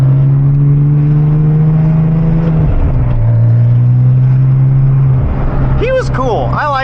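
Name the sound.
Porsche 911 Turbo engine revving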